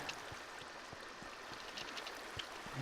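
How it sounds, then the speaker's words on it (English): Water flows steadily after a gate opens in Minecraft, a soft continuous trickling stream with faint gurgles, quiet and alone. "Now, this gate's down and the water's flowing."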